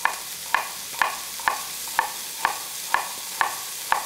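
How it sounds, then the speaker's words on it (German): Beef browning in a pan for boeuf bourguignon, a soft steady sizzle under a run of sharp, evenly spaced clicks or taps about twice a second, close and moderately loud, with no talking. "während das Ganze hier ein bisschen vor sich hin brät"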